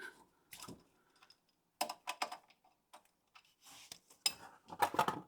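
Metallic clicks and clinks as the oil sump plug is undone on a Subaru Impreza WRX, several sharp taps and ratchet-like ticks in bursts with quiet gaps between, close and fairly faint.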